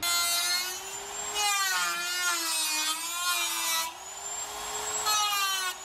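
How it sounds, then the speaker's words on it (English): A high-pitched Dremel rotary tool whines steadily, its pitch dipping and rising as it cuts into a BMW M3 body part, loud and close with no talk. "Where's my Dremel?"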